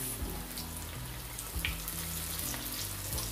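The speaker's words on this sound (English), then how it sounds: "Use a tongue to add your meat to your oil, okay?" Jamaican-style barbecue chicken pieces fry in hot oil with a constant loud sizzle and bubbling, punctuated by a few soft knocks as meat is moved with tongs.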